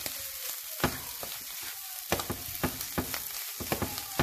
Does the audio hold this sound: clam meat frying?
yes